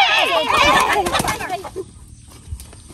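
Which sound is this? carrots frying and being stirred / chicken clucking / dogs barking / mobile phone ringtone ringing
chicken clucking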